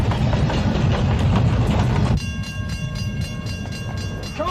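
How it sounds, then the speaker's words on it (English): A train rushes close by a car stalled on the tracks during a roadside rescue: a loud, steady rolling rumble that eases slightly midway and carries faint tonal ringing, with no voices. "There's a train coming."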